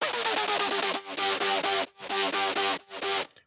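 A lower, gritty scratch-style EDM synth churns in choppy rhythmic bursts with broad noisy texture and short silent breaks, heavy and close with no voices.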